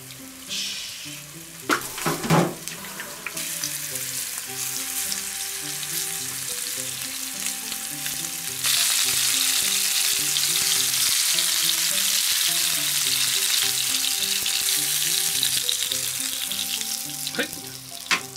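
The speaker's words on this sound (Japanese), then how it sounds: "はい、じゃあ焼いていくよ。" Fish meunière dusted in flour and curry powder sizzles steadily in a pan, a continuous loud frying hiss with a brief clatter near the start and the sizzle growing stronger partway through.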